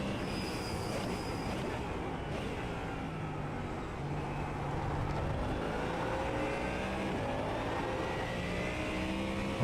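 Ford Mustang GT3 race car in a racing sim on the Daytona circuit, a continuous loud engine roar with rising revs and tire noise, sustained through the whole stretch without pause.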